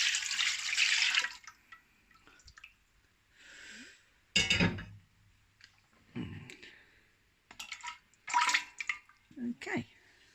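Liquids for soap making are poured into a tall-neck pot in several short, separate splashing pours between pauses, close and fairly quiet, with a person talking in between.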